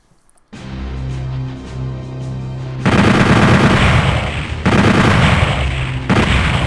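Gunfire at an explosive barrel in Doom 64, with loud dense shots and blasts bursting in around three seconds and again near five and six seconds over steady game music.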